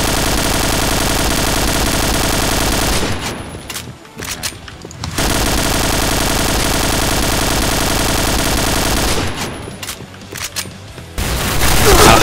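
An AUG A3 rifle fires in a first-person shooter game in long, loud sustained bursts of rapid automatic gunfire, broken by two brief pauses, with no speech.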